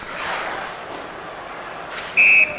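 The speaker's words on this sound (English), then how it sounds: "covers up for the whistle" A referee's whistle blows briefly and sharply near the end of a stretch of steady arena crowd noise in the NHL 2001 hockey video game.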